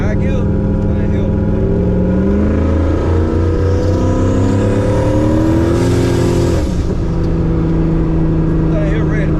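A turbo Camaro engine revs hard on a test run, a loud, close, continuous roar that climbs steadily in pitch, drops sharply at a shift and then settles into a steady drone, with voices faintly under it.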